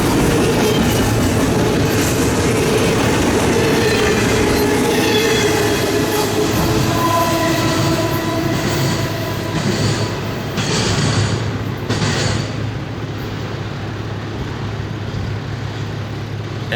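A Norfolk Southern freight train rolls past close by, a steady loud rumble of wheels and cars with rhythmic rail clatter and a brief brighter squeal near the end, continuing without voices.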